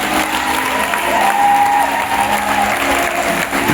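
A church congregation breaks into steady, sustained applause of acclaim for the Lord, a dense wash of clapping hands that fills the room at a fairly loud, even level throughout.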